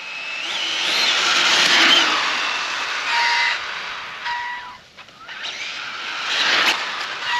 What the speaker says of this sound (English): Warm that motor up a little bit.